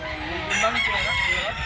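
A rooster crows once, loud and close, its drawn-out call rising and wavering over about a second against faint background noise.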